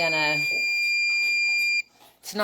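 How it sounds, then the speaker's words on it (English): A steady high electronic beep tone from a battery pack that won't charge sounds close by for most of the clip, overlapping with someone speaking, then cuts off abruptly. "it's flashing over here, and it's making a beeping sound"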